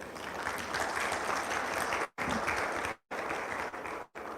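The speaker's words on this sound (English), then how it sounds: "Once again, a round of applause." An audience at a Nigerian conference panel session claps in a dense, loud burst, with the applause cut by three brief silent gaps.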